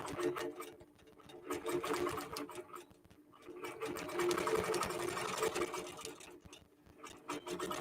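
Quilting machine stitching out a quilt block, a steady rapid mechanical whir that holds for the whole stretch and rises and dips slightly in loudness.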